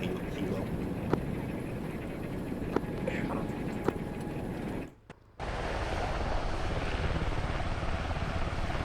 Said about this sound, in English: watch for that helo?